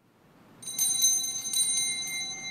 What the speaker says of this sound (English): It is also customary for the server to ring a bell as they enter to alert the people that Mass is beginning.